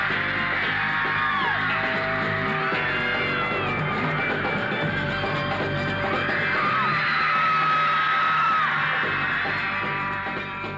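Crowd of Beatles fans in New York screaming and shrieking continuously, a dense high-pitched wall of voices with rising and falling yells, loud and sustained throughout.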